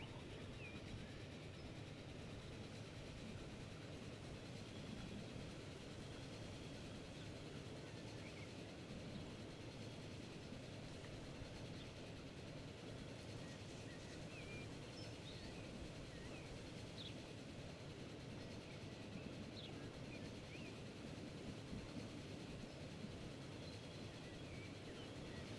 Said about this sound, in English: There's the other train on the line.